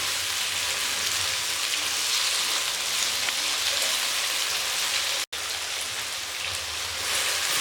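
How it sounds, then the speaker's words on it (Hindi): Mixed vegetables fry in a pan for a Pakistani-style beef biryani, giving a steady, dense hiss like heavy rain that runs almost unbroken, with one brief dropout near the end. "इसको हम तकरीबन इसी तरह 5 मिनट तक भूनेंगे ताकि हमारी सब्ज़ी फ्राई हो और गलना शुरू हो जाए।"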